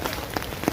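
Heavy monsoon rain falling steadily on surfaces outdoors along a muddy road, a dense continuous patter with scattered louder drops.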